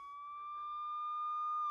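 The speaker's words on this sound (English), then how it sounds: "Suddenly, outside, they hear the sound of a siren. It is a police car." Police car siren wails in a steady rising tone, clear but fairly quiet, growing slightly louder as it nears, heard alone without speech.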